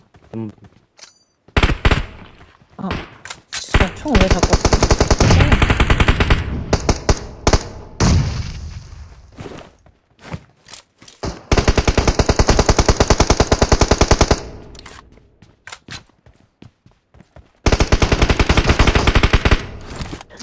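Automatic gunfire in a mobile battle royale game, PUBG Mobile, fired in rapid bursts. Some bursts are long and sustained, others short, with gaps between them and players talking now and then.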